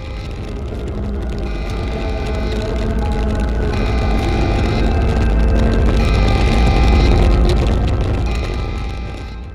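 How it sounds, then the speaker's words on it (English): A rocket engine fires and burns in the video game Black Mesa, giving a loud, continuous mechanical roar that swells slightly toward the middle and then eases off. "Power the rocket engine and watch it burn."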